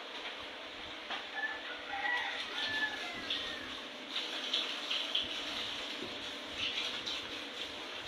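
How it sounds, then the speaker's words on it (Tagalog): Water runs steadily from a tap while hands are washed, a soft continuous splashing close by, with chickens and a rooster clucking and calling in the background throughout. "Bugas muna ako ng kamay guys."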